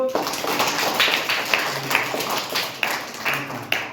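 Scattered bursts of clapping from a small group of children in a classroom break out briefly beneath an adult's voice, uneven and close by.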